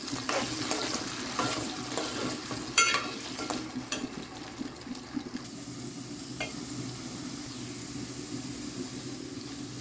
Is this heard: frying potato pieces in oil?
yes